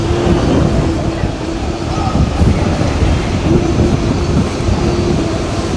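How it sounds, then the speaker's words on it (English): Steady, loud wind buffets the microphone, producing a continuous low rumble outdoors near a resort pool area in Jamaica, with faint voices underneath. "Real windy today."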